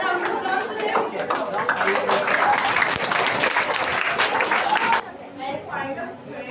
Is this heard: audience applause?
yes